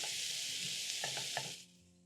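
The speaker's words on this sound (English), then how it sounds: "Reduce the flames to low so that the onions can slowly cook without the smokies browning too" Onions and green peas fry slowly in a pan over a low flame, giving a steady, even sizzle that drops off sharply near the end.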